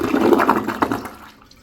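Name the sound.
Toto Drake II toilet flush, press and release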